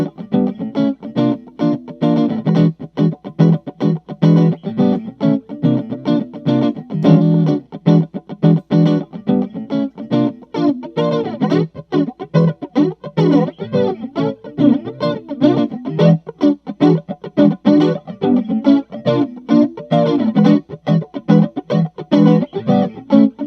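Electric guitar plays a fast, rhythmic run of picked notes through a TC Electronic Plethora or Boss MS-3 flanger effect, sweeping and whooshing, steady and loud throughout.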